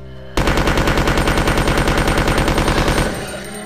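Sustained rapid automatic gunfire in the survival horror game Resident Evil 2, a steady loud stream of shots lasting about three seconds before cutting off into a brief echoing tail.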